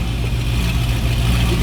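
A C5 Z06 Corvette fitted with Texas Speed headers and an X pipe idles on first startup, its loud, steady low exhaust burble close by and continuous, with a faint uneven pulse running through it.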